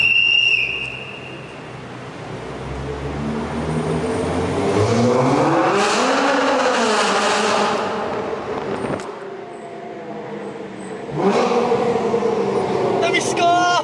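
A turbocharged Nissan R35 GT-R at a car meet revs up and down in rising and falling sweeps, loud and close, with a sharp burst near the end. Voices are heard around it.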